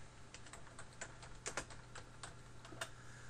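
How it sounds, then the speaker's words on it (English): Typing on a computer keyboard, a quiet, irregular patter of light key clicks at close range with a steady low hum beneath, no talk. "you want to type in XLinks Kai"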